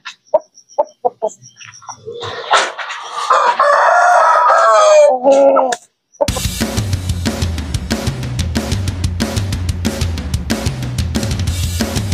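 Large roosters and hens crow and cluck loudly up close, a few sharp calls first, then a long drawn-out crow, followed by a dense, continuous chorus of clucking and crowing from many birds.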